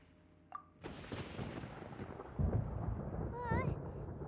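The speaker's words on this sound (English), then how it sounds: "Paimon hears thunder!" A deep rolling rumble of thunder builds and sustains in a Genshin Impact storm scene, preceded by a soft chime and followed by a brief rising magical shimmer.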